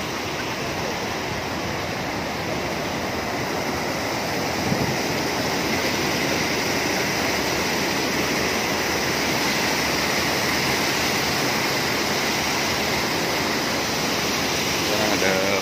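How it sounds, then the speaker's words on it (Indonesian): A clear river runs through central Seoul, Korea, its steady broadband rush of flowing water filling the scene evenly from start to finish with no talk over it. "Sungai jernih di tengah kota Seoul,"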